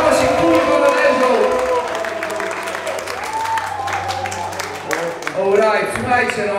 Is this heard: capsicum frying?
no